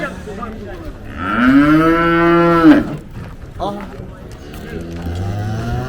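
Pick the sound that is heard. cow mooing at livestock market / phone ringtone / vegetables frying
cow mooing at livestock market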